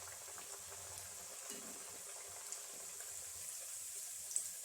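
Red rice flakes vada frying in hot oil in a home kitchen, a steady soft bubbling sizzle with occasional small pops, continuous and close, with no voices.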